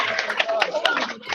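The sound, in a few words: class applause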